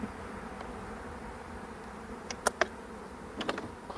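Spring honeybees drone low and steadily around their hive, with a few sharp clicks and taps near the end.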